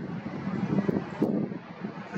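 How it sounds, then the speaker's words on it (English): Cold wind blowing outdoors in Gibraltar on a freezing November morning, a low buffeting rumble against the microphone with gusty swells, fairly faint and without speech. "And also a bit windy."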